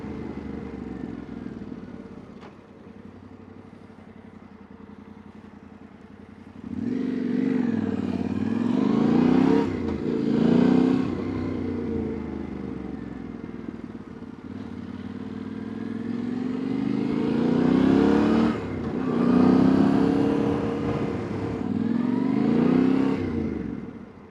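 A motorcycle rides up and parks in front of a train station, its engine rising from a low idle into two louder revving passes, close and steady, with no talk.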